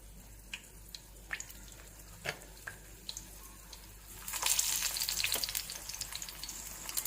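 Onion cutlets frying in hot oil: a faint crackle with scattered pops at first, then a louder, denser sizzle that swells midway and carries on close by.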